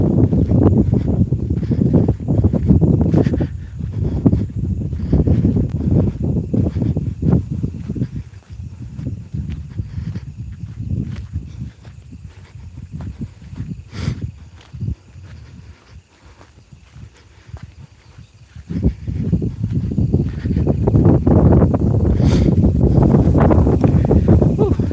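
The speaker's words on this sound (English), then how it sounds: "Very windy, which is nice, but it's very windy." Strong gusts of wind roar and buffet the microphone outdoors in Dutch wetlands, easing for a moment midway before surging back hard.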